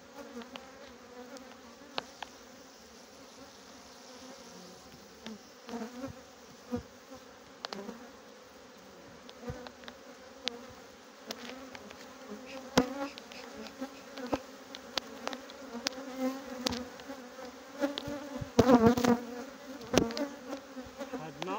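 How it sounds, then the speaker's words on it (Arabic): Honeybees buzz densely in a full hive during a spring inspection, a continuous close drone with individual bees passing by and occasional frame knocks, without talk. "الخليه ديالنا عامره بالنحل"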